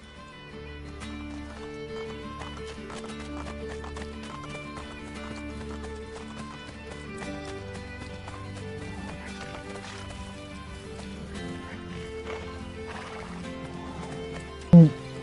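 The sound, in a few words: horse hooves and neighing, video game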